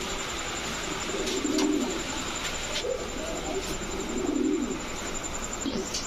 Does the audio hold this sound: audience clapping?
no